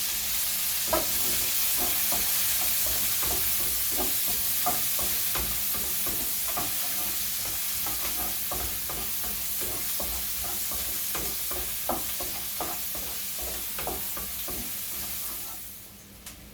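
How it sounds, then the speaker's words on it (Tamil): Medium onions sauté in a pan for paneer butter masala, a steady loud sizzle and hiss with repeated scraping knocks of a stirring utensil, fading away at the end. "இந்த மீடியம் சைஸ் வெங்காயத்தை நான் கட் அதே சட்டிக்குள்ளே போட்டு வதக்க போறேன்"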